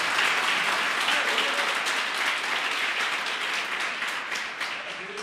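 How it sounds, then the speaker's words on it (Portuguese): A church congregation claps continuously during a sermon, a thick wash of many hands sustained at fairly even loudness and fading slightly toward the end. "Você pode aplaudir o nome do Senhor?"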